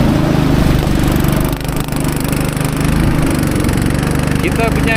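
An outboard boat engine runs while crossing river rapids near a village: a loud, continuous mechanical drone with a steady throb and a brief dip in the middle, and a voice may be talking beneath it.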